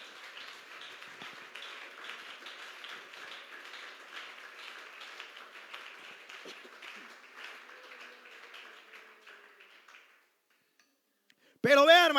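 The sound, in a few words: church congregation applauding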